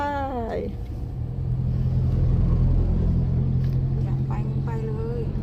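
A manual-transmission pickup truck's engine rumbles steadily from inside the cab during a slow driving lesson, its note swelling and settling as the gear is changed, with people talking over it.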